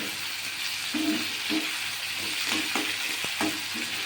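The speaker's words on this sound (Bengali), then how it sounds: "রসুন আদা আর পেঁয়াজ বাটাটা দিয়ে দিলাম" Garlic, ginger and onion paste fries in a pan for chilli cauliflower, giving a steady close hiss with a few soft scrapes of a utensil against the pan.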